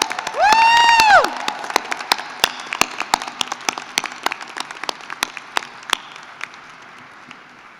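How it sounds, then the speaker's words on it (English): An audience at a university doctoral hooding ceremony applauds, starting with a loud cheer and a burst of dense clapping, then thinning to scattered, spaced claps that fade away. "stand and offer our faculty a round of applause"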